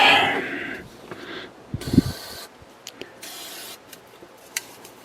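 MG Electrosolve electronics contact cleaner sprayed from an aerosol can, a short hissing burst followed by several brief spritzes and faint handling clicks, close by in a quiet room.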